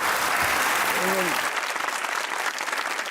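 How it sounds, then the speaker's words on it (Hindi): A brief burst of clapping from a group, loud and close, with a short voice heard under it near the start. "ताली होनी चाहिए"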